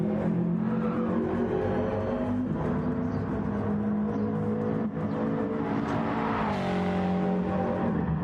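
A Subaru rally car throws a handbrake turn on a rally stage, its engine holding a steady loud drone that swells into a rising rev near the end, heard from a distance with no talk.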